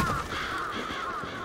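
Crows caw in Bloodstained: Ritual of the Night, a cluster of harsh, repeated calls overlapping through the moment, fairly faint against soft game ambience.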